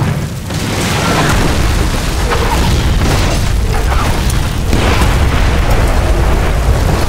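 Missile strikes in the video game Splinter Cell Blacklist rumble as a loud, dense wall of booming explosions and low roaring blasts that barely let up, with quick sharper bursts scattered through the din.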